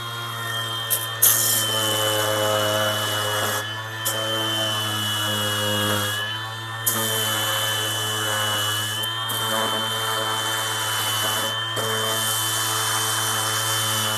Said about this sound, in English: I think I'm just going to do that with a sander